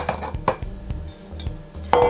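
Red chilies for a spicy pineapple sambal dropped into a grinder, giving a string of light clinks and knocks of hard kitchenware, close and fairly quiet, with a sharper clatter at the end.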